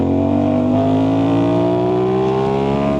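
An Aprilia RS660 sport motorcycle engine accelerates on a ride, short-shifted, giving a loud, close, steady engine note that climbs smoothly in pitch over a few seconds.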